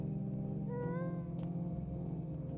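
A cat meows in a video game, a short rising-falling call over a steady droning hum of background music and ambience, with no voices.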